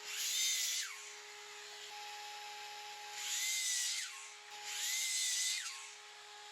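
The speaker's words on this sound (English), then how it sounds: "I just simply turned the laser on my miter saw and lined it up to my pencil lines and cut" A miter saw cuts through 2x4 lumber for a wooden gate frame, with three separate high whining bursts of the blade spinning up and biting the board, each fading back to a steady hum, fairly close and with no talk.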